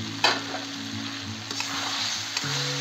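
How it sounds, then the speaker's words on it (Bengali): Potatoes, peas and broccoli sauté in a hot pan with oil, giving a steady close sizzle broken by a few sharp scrapes and stirs of a spatula. "এখন দিয়ে দেবো আমি এই যে আলু ভেজে রাখছি, এই ভাজা আলু আর দিয়ে দেবো এই ব্রোকলি, এ দিয়ে ভালো করে কষাই নেব।"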